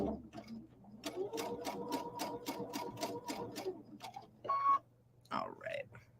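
A sewing machine stitches zigzags across a quilted acorn coaster in a quick burst of rapid even ticks, then stops, followed by a few short clicks and mechanical sounds.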